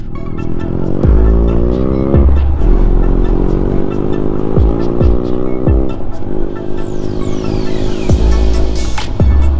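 Royal Enfield Himalayan motorcycles ride along a mountain road near Kyuto village in Spiti valley, engines droning steadily and loudly with repeated low thumps and a rising whine near the end, no talk over it.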